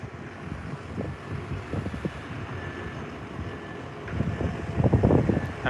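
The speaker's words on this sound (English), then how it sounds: "the wind is picking up" Wind picking up on the Boca Chica shore near the Starbase launch site produces steady rumbling gusts and microphone buffeting that grow louder toward the end.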